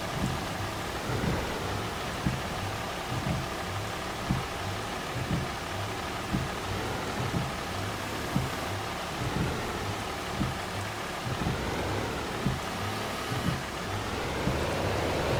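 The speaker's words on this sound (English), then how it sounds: "Trying to be productive while it rains." Steady rain falls in Farming Simulator 25 on a Louisiana farm, a constant hiss with a soft rhythmic low thumping underneath, heard alone without talk.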